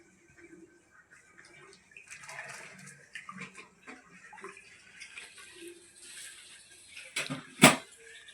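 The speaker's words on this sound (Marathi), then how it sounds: "आता सगळं पाणी घालून झालेलं आहे" Water pours into a Konkan-style spicy crab curry, a soft splashing trickle that builds up, followed by a sharp clatter near the end.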